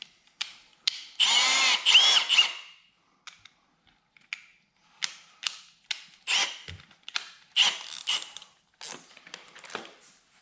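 A step-up bit drills a hole in a kayak hull, short bursts of whirring and grinding with pauses between them, close and moderately loud.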